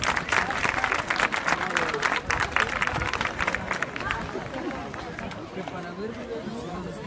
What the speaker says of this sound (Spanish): Un fuerte aplauso para el grupo de danza folclórica Tsunutsi,